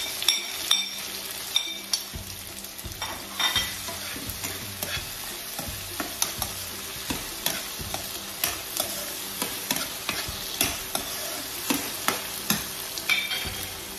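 Argentina canned corned beef frying with tomatoes in a pan, stirred by hand: a continuous near sizzle broken by regular scraping and clinking stir strokes, with no voices.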